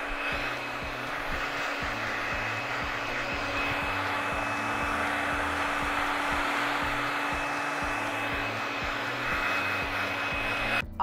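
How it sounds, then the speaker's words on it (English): A blow dryer roars steadily and close by, a constant whooshing hum with a low motor drone that never lets up. "taking my blow dryer and I'm just gonna blow"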